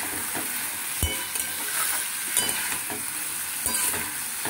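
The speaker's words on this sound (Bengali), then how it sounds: "পোস্তটা দিয়ে আবার আমাকে এরকমভাবে নাড়িয়ে চাড়িয়ে নিতে হবে" A spoon stirs poppy-seed paste through cauliflower in a pan, with scraping strokes and soft knocks over a continuous sizzle of frying.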